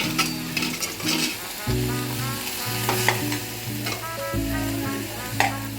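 Loud sizzling of spinach sautéing in a hot pan, with a spoon stirring and scraping through the crackle, no voices.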